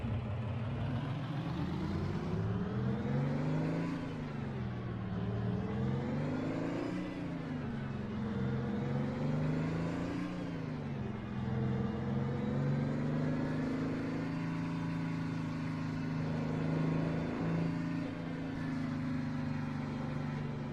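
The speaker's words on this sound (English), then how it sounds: "This engine, though, I forget what we've gotten here. I think it's just like the Mack engine. But this thing just screams, man." An old Mack truck engine in American Truck Simulator drones loud and steady, its pitch climbing and falling through repeated revs and gear changes, with no talk.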